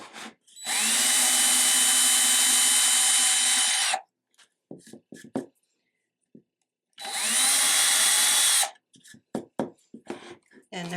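A power drill runs loudly in two sustained bursts of about three seconds each, drilling into a Dollar Tree spice rack, separated by a pause filled with light clicks and handling noises.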